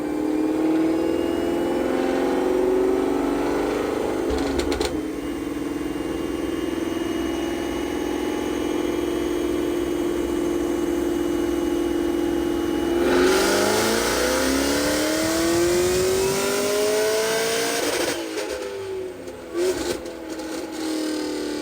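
A Chevrolet Camaro ZL1 running an E85 tune holds a steady droning engine note for a long stretch, then revs up hard in a loud rising sweep, drops back, and surges again near the end.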